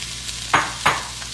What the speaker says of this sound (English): Get these vegetables sauteed up, coated real well.